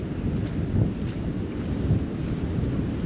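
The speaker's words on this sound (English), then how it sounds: "Well, this is the wind we're having." Strong gusting wind buffets the microphone outdoors on a very windy day near garden stands, a steady loud rumbling roar with surges, heard alone without talk.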